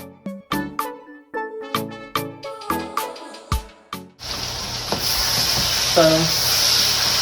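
Chicken fajitas cook down in a hot pan with a loud, steady sizzle that begins abruptly after a run of rhythmic knocking and tapping, then continues close up with faint stirring sounds.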